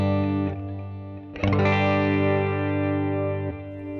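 An electric guitar runs through a Fender Mustang GT amp with a delay effect: sustained distorted chords ring and repeat, with a fresh strum midway and soft echoing tails, close and without talking.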